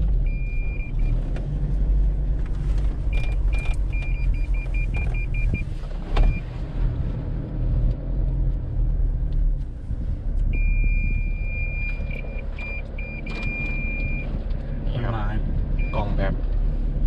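A Toyota Fortuner Legender 2.8 4WD drives off-road through forest, its engine and cabin noise steady throughout, with repeated parking-sensor beeps and a voice talking over it.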